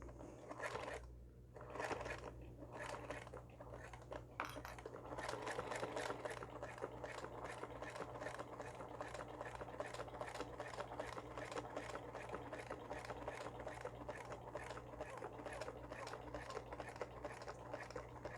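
Domestic sewing machine stitching a zipper into a basic training bag, a steady rapid mechanical whirr of needle strokes running almost continuously with a brief pause near the start, close and fairly quiet over a low hum.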